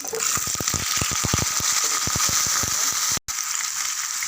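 Potatoes frying in hot oil in a pan, a loud steady sizzle with crackling pops spread all through it, broken by one brief dropout near the end.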